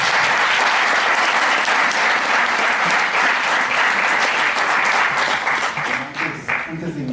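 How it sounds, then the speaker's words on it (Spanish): Loud, sustained applause fills a lecture hall as the audience claps for a speaker on narcotrafficking and violence, a dense crowd clatter that thins out near the end. "para el que les pido un fuerte aplauso"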